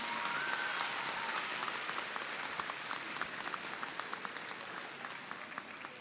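Middle school students at an evening promotion ceremony applaud their families, a moderately distant, even spread of clapping from a large group that keeps going for several seconds with scattered sharper claps.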